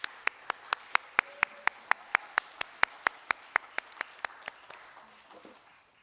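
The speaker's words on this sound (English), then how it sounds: "If we could get one more round of applause" A sparse round of applause for panel speakers at a harm reduction education event sounds as crisp, evenly spaced claps in a steady rhythm. The claps are fairly quiet and fade away after about five seconds.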